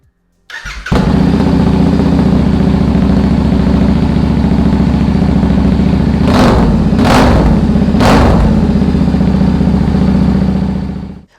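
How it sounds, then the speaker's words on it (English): A Royal Enfield 650 twin motorcycle, Interceptor or Continental GT, fitted with a performance air filter, cranks and fires up loudly, then settles into a steady, throbbing idle with a few short blips of the throttle. "Start the bike."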